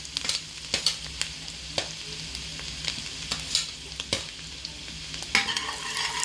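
Garlic fries in oil in a pan for keto Chinese-style noodles, a crackling sizzle dotted with sharp utensil taps and scrapes at an irregular pace, close and fairly loud.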